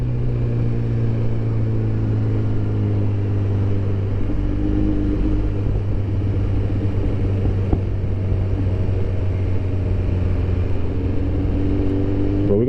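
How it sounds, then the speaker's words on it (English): A BMW S 1000 RR motorcycle rides through dense motorcycle traffic in Medellin, with a steady engine drone and shifting revving tones from surrounding bikes, continuous and close with no talking. "riding in Colombia means being surrounded by other motorcycles almost all the time"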